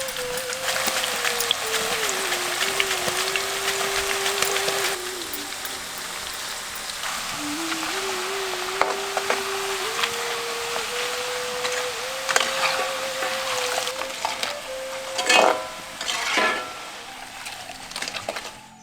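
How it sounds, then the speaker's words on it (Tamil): Slices of raw Nendran banana sizzling in hot oil for Kerala-style banana chips, a steady dense crackle and hiss throughout, with clinking utensil sounds and a tonal hum from nearby equipment. "எண்ணெயில பொரிக்க ஆரம்பிச்சிருவோம்."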